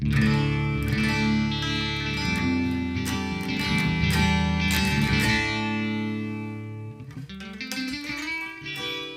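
Electric guitar played through an IK Multimedia TONEX amp modeler with an impulse response engaged, sustained distorted chords and ringing notes with a shimmering effects tail, close and full, with no talking.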